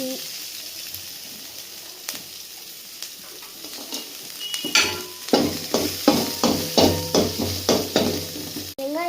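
Loud sizzling of chilli and onion sautéing in a hot pan with repeated scraping stirs, the frying growing busier and more rhythmic as the stirring picks up.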